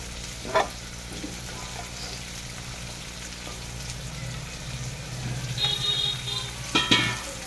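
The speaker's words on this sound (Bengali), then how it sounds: "আলুটাকেও আমি তেলের সাথে ভেজে নেবো" Thick-cut potato strips frying in oil in a home kitchen pan, a soft continuous sizzle with occasional stirring clatter and a couple of sharper utensil clinks near the end.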